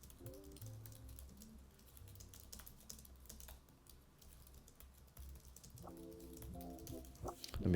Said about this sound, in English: I'm just going to focus on typing and you guys can read as I write.